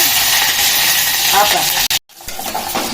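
Cumin seeds sizzle loudly in hot oil in a pan, a dense crackling hiss that cuts out for a brief moment before the frying resumes.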